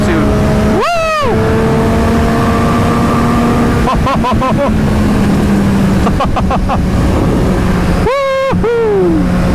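A Triumph Street Triple RS motorcycle rides along a highway, its engine droning steadily under loud wind rush, with several sharp rising and falling revving swells and gear-change bursts, and a voice whoops excitedly over it.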